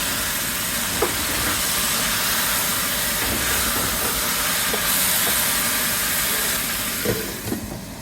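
Steady, loud sizzling hiss of chicken wing pieces frying in a hot pot fills the whole stretch, with a few soft clicks and clanks near the end.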